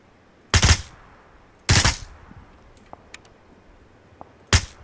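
Three suppressed gunshots sound in the PUBG video game, each a sharp, heavy thump with a short tail, spaced unevenly with a longer gap before the last, with faint small clicks between.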